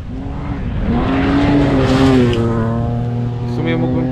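A rally car on a special stage of the Saaremaa Rally, heard from close by: the engine note climbs and holds loud through a pass, then fades as the car moves away, with someone talking over it.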